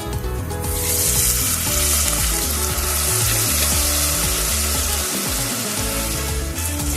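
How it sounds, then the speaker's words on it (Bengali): Spices frying in a pan with a little water for a cauliflower and potato curry: a loud, steady, close sizzle that runs unbroken throughout, with no voices. "মশলাপাতিগুলো ভেজে নেব। সামান্য একটু জল ব্যবহার করব।"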